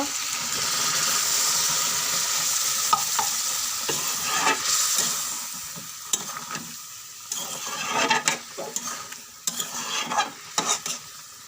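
Chicken frying in a pan sizzles and crackles as it is stirred, with bursts of scraping and bubbling as water is added, the sound growing more uneven and spattery toward the end.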